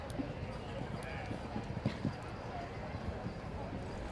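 Hooves of a showjumping horse thud in a quiet, irregular clip-clop at an international CSI 3* show arena, faint and distant beneath a commentator talking.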